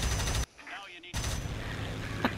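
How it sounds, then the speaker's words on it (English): Machine gun and cannon fire in the PlayStation 4 combat game War Thunder: loud, dense bursts of rapid shots that stop for about half a second and then resume as a sustained barrage. "Your machine guns and cannons are perfect."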